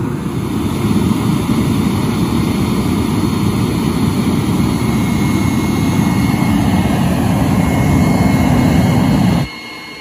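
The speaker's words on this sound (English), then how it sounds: "we will be using a shop vac" Shop vac blowing air into a forced-air forge burner gives a loud, steady roaring rush that holds constant for nearly ten seconds before cutting off abruptly, with no talk.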